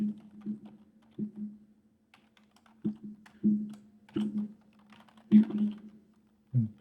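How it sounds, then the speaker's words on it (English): Username typed on a computer keyboard in short bursts of close, crisp keystrokes separated by brief pauses, with no talking. "Just type in our username that we have created."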